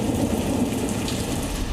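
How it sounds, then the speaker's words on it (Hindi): Heavy monsoon downpour over Delhi, a dense continuous roar of rain with deep rumbling underneath, loud and enveloping with no voices. "इस वक्त पूरी दिल्ली में बारिश आफत बनकर बरस रही है"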